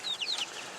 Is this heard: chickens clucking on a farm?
yes